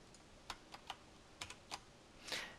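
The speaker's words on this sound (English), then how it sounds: "by hitting Control Alt Shift and N on our keyboard" Computer keyboard keys pressed for a Photoshop shortcut combination, several distinct clicky taps spaced irregularly, close and fairly quiet, ending with a slightly longer burst of key noise, no talking.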